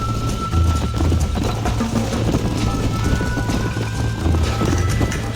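Horses gallop in the Red Dead Redemption video game with dense, continuous hoofbeats at close range. They sound loud and steady throughout, with low rumbling underneath.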